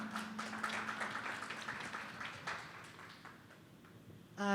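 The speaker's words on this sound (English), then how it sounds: "Can we have a round of applause for our panel?" Faint applause from an audience greeting a panel at a talk on the Jaipur Court's treasures, a soft continuous patter of clapping heard from a distance that thins out near the end before a voice starts speaking.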